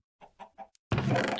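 Chickens from the Minecraft Sky Factory 3 modpack give three short clucks in quick succession. A brief chirp follows, then a loud, dense burst of overlapping clucking and squawking from a crowded flock.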